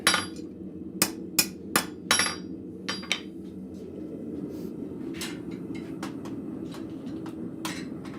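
Sharp metallic blacksmith hammer blows straightening hot metal, several quick strikes in a loose cluster, then lighter taps, over a low background rumble.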